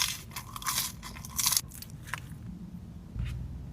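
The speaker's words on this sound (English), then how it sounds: "These fries are crunchy." Crunchy cheese fries being bitten and chewed up close, with several sharp crackling crunches in quick bursts over a low background hum, no talking.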